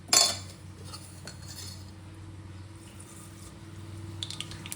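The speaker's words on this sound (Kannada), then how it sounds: "ಚಿಟಪಟ ಅನ್ಬೇಕು ಸಾಸಿವೆ." Mustard seeds crackle and spatter in hot oil in a kadai while tempering for palak sambar, a dense, steady sizzle with a sharp clatter at the start and no voices.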